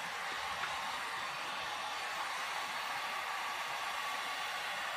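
A heat gun blows a steady, even roar of air throughout, close and constant with no breaks, drying fresh paint on a mirror frame during a DIY makeover.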